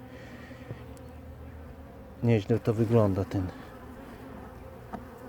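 Bees hum faintly and steadily around a heavy hive frame during a late-season colony inspection, while someone speaks briefly over the buzzing partway through.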